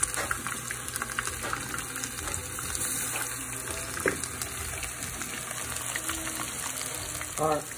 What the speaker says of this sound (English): I cut them small. Fries quicker. It's more crispy.